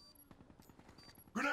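Gunfire in a Search and Destroy video game match, with a rapid string of faint shots followed by a sudden loud blast at the end.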